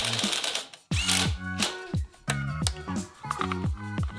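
A ratchet tightening bolts on a Honda Grom motorcycle, giving loud close buzzing bursts of rapid mechanical clicking, repeated in short runs with brief pauses between them.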